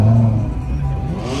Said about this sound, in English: Quite a few of the cars leaving.